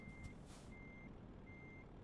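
Three regular backup beeps from a reversing truck in Euro Truck Simulator 2 ring out over a steady engine drone, with a short airy hiss early on between the first and second tones.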